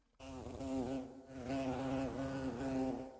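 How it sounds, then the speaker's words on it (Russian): Housefly buzzing used as a layer in monster sound design, a close, loud, continuous droning whine that wavers slightly in pitch, beginning abruptly and sustaining alone to the end. "Муха была."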